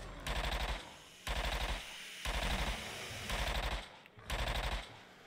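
Rapid automatic weapon fire in a video game comes in about five loud bursts, each lasting roughly half a second to a second and separated by short lulls.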